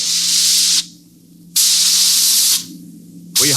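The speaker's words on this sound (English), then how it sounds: "We could hear the desperate bursts of steam through the steering tubes as the Starfire maneuvered to dodge the enemy attacks." Sharp bursts of hissing steam through spaceship steering tubes in a 1950s radio drama, two long blasts and the start of a third with brief gaps, loud and close over a faint low hum.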